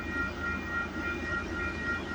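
Westbound CP freight train rolling past at Wolverton, a steady low rumble of wagons and engines held at an even level throughout, with no voices.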